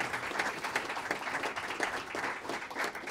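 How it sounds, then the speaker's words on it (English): An audience at a university educational partnership signing event claps steadily for about three seconds, a dense, continuous round of applause with no talking over it. "let's give David another round of applause"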